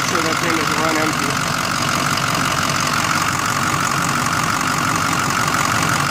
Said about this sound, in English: Now that I got the truck running, I'm gonna run this for a couple minutes